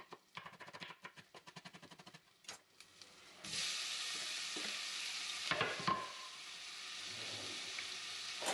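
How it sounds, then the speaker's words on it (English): Chopped onions, carrots and celery tipped into a hot saucepan, first a run of quick chopping-board taps, then a sudden steady sizzle and hiss of vegetables sweating, with a few stirring scrapes, close and without speech. "put everything in the saucepan, the onions, the carrots and the celery, and let that sweat down"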